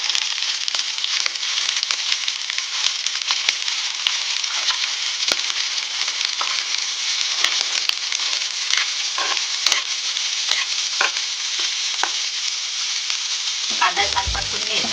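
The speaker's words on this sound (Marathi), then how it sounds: "कांदा छान परतून घ्यायचा." Onion sautés in a pan for a Maharashtrian wild-vegetable bhaji, giving a dense, continuous sizzle and crackle at steady loudness, with occasional faint scrapes of stirring; no talk.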